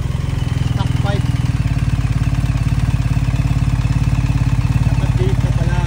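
A new motorcycle with its stock exhaust pipe idles in a steady, loud, rapid low putter, close by, with people talking over it now and then.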